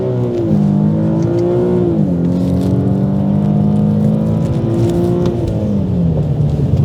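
A Nissan Skyline 370GT accelerates hard, its engine note loud and close, climbing in pitch, dipping briefly at a gear change, then pulling strongly again before easing off.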